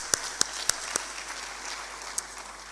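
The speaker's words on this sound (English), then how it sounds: "I would like to invite you to applaud to them" Audience at an urban forum session giving a few scattered, sharp claps that start and stop irregularly over a quiet room hum, with one last clap a little later.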